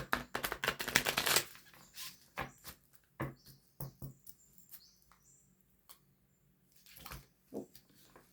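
Light Seers tarot cards being shuffled by hand: a quiet, close riffle of crisp patters in short bursts separated by pauses, with soft handling rustles and no talking.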